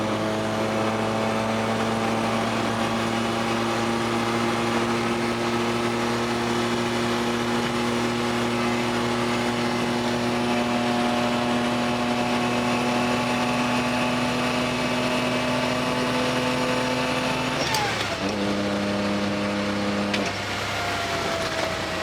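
A supercharged all-wheel-drive BMW E46 cruises with a steady engine drone and a supercharger whine, then the tone drops sharply when the throttle is lifted and climbs back, with no talk.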